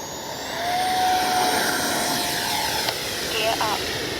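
RC model airplane on its maiden flight, a steady whining motor drone with a rising tone passing overhead at moderate distance, over a constant wind-like hiss.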